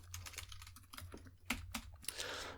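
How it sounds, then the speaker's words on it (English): Python code is typed on a computer keyboard with quiet, close key clicks in quick uneven bursts, and a few louder strokes stand out. "We are going to type this one out."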